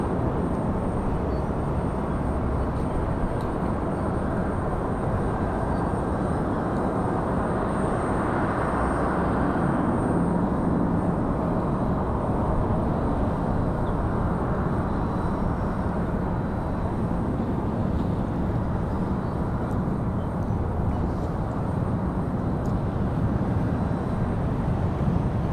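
A Frontier Airlines airliner at Raleigh-Durham keeps up a long, steady engine roar that swells slightly partway through before settling, with no voices over it.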